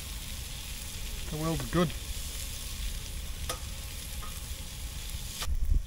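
A couple of steaks sizzle on a Lotus Grill aboard a narrowboat, a steady close frying hiss running throughout, while a person briefly speaks over it and a short tonal sound passes in the middle.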